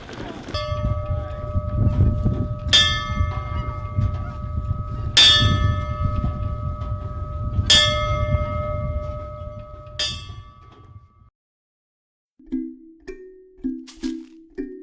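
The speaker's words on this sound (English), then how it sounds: "That's ringing the bell." A bell rings out in repeated strikes about every two and a half seconds over a rumbling background, followed by a few quicker clanks at the end.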